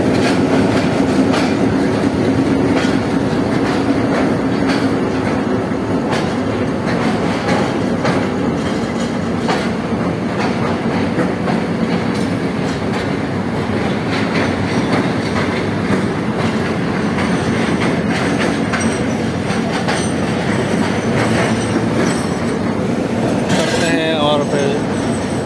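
A passenger train stands and moves at Rawalpindi railway station in Pakistan, its steady heavy rumble joined by rhythmic clickety-clack wheels and metallic clinks, continuous and fairly near, with faint voices now and then.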